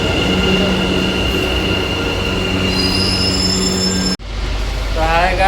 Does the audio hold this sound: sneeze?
no